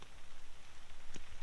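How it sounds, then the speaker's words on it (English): Heavy rain in Sweden, falling steadily as a faint, dense hiss with soft pattering, continuous throughout and quiet in level. "It's raining so fucking much."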